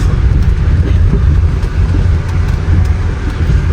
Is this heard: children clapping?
no